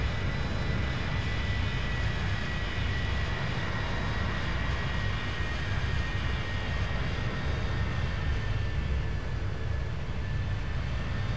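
Qantas Boeing 737 in X-Plane 11 banking into a turn, its engines a loud, steady jet roar and whine that holds constant throughout with no voices.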